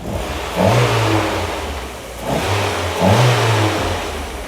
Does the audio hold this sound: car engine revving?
yes